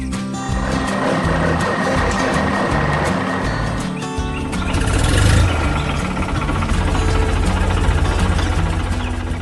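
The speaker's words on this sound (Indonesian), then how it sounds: "Lihat cara mereka memuat batang pohon itu ke truk sampah sangat sistematis dan efisien." A garbage truck's engine idles and revs loudly as tree trunks are loaded aboard, a continuous close mechanical rumble with knocking texture that swells briefly midway, with no voices.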